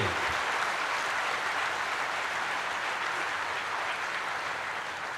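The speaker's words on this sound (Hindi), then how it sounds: "एक बार जोरदार जानदार तालियों के साथ अपनी भावनाओं को व्यक्त कीजिए" Sustained, dense applause from a large audience at an Indian Navy ceremony for INS Vikrant, steady and loud for several seconds with no talk.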